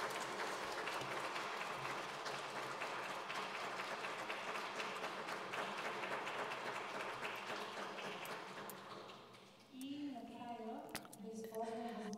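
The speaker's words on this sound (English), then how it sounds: "I would like you to applaud the initiative." Audience applause after an invitation to applaud an initiative by the Bulgarian and Spanish labour and social policy ministries, at a Luxembourg Declaration monitoring committee meeting: steady, dense clapping that fades near the end, with a voice speaking over the tail.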